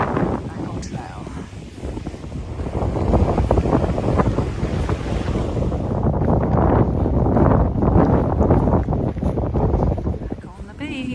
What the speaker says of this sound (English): Back on the beach. Just 900 meters of beach.